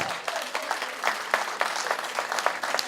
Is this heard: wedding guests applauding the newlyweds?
yes